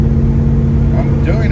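A classic Dodge Coronet engine drones steadily and close while cruising at highway speed in Texas, a constant low rumble with a driver talking over it.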